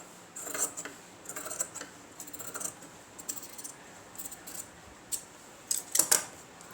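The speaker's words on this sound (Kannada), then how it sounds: "ಈಗ ಇದನ್ನು ಇದ್ರ ಬಾಜು ಒಂದು 1/2 ಇಂಚ್ನಷ್ಟು ಬಟ್ಟೆ ಬಿಟ್ಟು ಟ್ರಿಮ್ ಮಾಡ್ಕೊಳ್ಳೋಣ" Scissors snip through blouse fabric during aari-work blouse stitching, a series of crisp, close metallic cuts coming in small clusters with short pauses between, fairly quiet against a still background.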